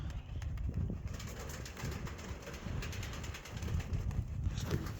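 Pigeons cooing faintly in a loft or outdoor setting, soft low calls repeating under steady wind noise and background rustle, no voices.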